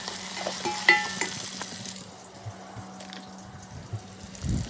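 Shrimp frying with onions in a pan, a soft steady sizzle with occasional utensil clicks and stirring scrapes, fairly quiet throughout.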